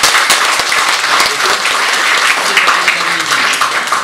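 Dense, loud applause from an audience at an award ceremony for a fishing sports olympiad in Pińczów, continuous clapping filling the room with a few voices mixed in.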